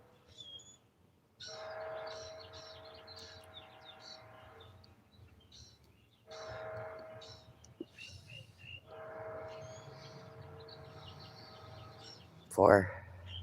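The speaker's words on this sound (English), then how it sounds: "That's a train." A train rolls past on a line serving a sugar beet factory, a steady rumbling drone that swells and fades in long stretches, with a brief horn-like burst near the end and speech nearby.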